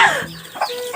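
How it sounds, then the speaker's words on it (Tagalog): Chickens cluck and squawk close by in a short, loud burst of overlapping calls. "Mga manok oh."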